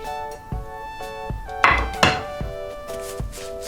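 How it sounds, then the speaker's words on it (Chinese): A knife scores a whole rack of pork ribs on the membrane side with several sharp, separate thunks and cuts against a board, close and clear, a steady tone humming beneath. "只需要在有筋膜的一面划上几刀"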